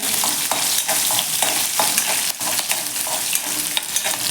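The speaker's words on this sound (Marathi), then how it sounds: "आता हे व्यवस्थित आपण हिरवी मिरची तेलावरती छान असे परतून घेऊया" Green chilies fry and sizzle in hot oil in a pan, with steady crackling and intermittent stirring scrapes, close and loud throughout, no voices.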